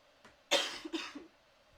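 A single person gives one short, sharp cough close by, followed by a few softer throat sounds as it fades into quiet.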